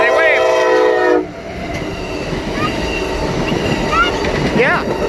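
An Amtrak Pacific Surfliner northbound passenger train passes close by at Lompoc, California, sounding a loud sustained horn that cuts off abruptly, followed by rumbling wheels, rail clatter and faint wheel squeals.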